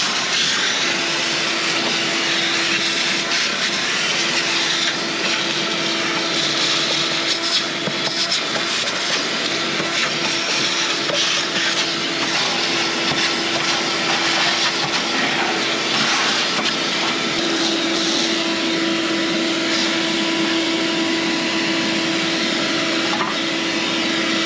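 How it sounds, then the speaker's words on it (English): A vacuum cleaner runs continuously and loudly in the engine bay of a 1961 Ford Galaxie 390, sucking up eggshells and debris, a steady whining roar with a sustained tone and shifting suction noise throughout. "let's vacuum all these eggshells up and all this other trash out from this engine bay"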